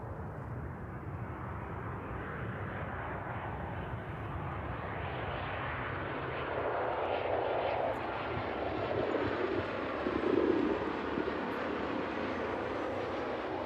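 Boeing 767 airliner approaching East Midlands Airport in the evening, a steady broad jet roar heard from a distance that swells slightly as it nears, with no talk over it.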